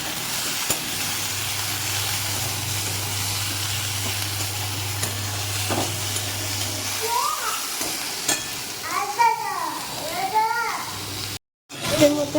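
Sliced onions and tomatoes sizzle and fry in a pan of oil while being stirred, a steady hiss near the mic with a low hum, then a voice and adult talk chime in over the frying.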